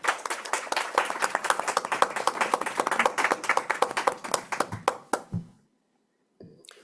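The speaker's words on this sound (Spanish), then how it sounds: "pido un aplauso por el premio que han ganado" An audience at an international law conference applauds award winners with steady, close clapping that thins out and stops after about five seconds; a brief tap follows near the end.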